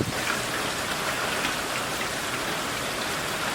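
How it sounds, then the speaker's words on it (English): Steady rain with gusting wind from Hurricane Michael in middle Georgia, a dense, even hiss of falling drops heard close and continuous with no voices. "we are definitely getting some rain and wind here in middle Georgia"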